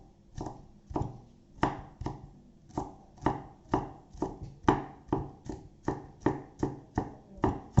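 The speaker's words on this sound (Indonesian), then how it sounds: "Cincang kasar ya." A knife chops bell pepper coarsely on a cutting board, landing about sixteen steady, evenly spaced strokes, each a crisp close thud with a short tail, with no talk over it.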